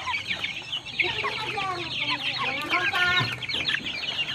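Many chicks cluck and peep together close by while eating, a busy overlapping chorus of short calls with a voice speaking briefly in the background.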